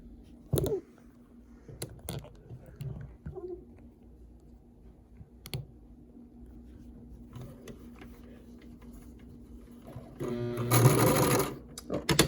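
A sewing machine stitches the hem of a homemade fabric face mask in short, faint bursts and clicks, ending in a louder, sustained run of rapid stitching near the end.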